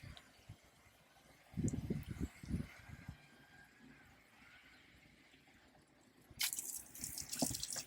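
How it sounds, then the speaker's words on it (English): Fresh water pours into a tank in a Nomado Cruiser camper, coming in short splashing bursts between quiet pauses, with a louder gush near the end, all fairly faint. "Put fresh water directly in."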